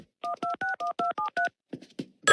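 A telephone keypad is dialed for a prank call: seven crisp, evenly spaced touch-tone beeps, followed by softer, shorter tones and faint clicks.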